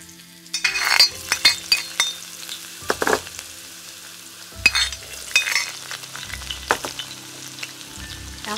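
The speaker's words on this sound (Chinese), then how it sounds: "油温再次烧入7、8成热的时候呢，我们放入姜蒜粒" Ginger and garlic bits hitting hot oil in a wok, a crackling sizzle flaring up in bursts as a spatula clinks and scrapes the metal, close and moderately loud, no talk.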